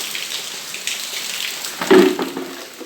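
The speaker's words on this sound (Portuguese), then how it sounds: "Agora à tarde a chuva veio com gosto, viu?" Heavy rain pours steadily in Maceió on an afternoon, a dense continuous hiss of falling water with a louder splashing burst near the end, no voices.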